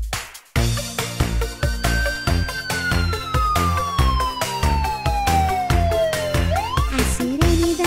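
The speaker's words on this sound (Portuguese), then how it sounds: "A sirene da ambulância faz" An ambulance siren from a children's cartoon wails in long, falling sweeps over a bouncy musical backing with a steady beat, loud and continuous.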